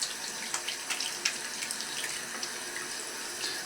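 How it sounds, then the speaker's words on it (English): Lukewarm tap water runs steadily into a sink as eyeglasses are rinsed under it, a soft continuous splashing with small irregular bursts, fairly quiet and with no speech. "I rinse well with lukewarm water."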